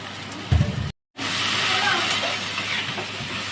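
Bitter gourd and leafy greens sizzle and hiss loudly together in a hot pan, briefly cut to silence, then a steady steaming sizzle continues.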